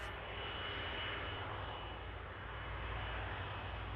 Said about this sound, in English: The Airbus A330-200 series with the Rolls-Royce Trent 700 engines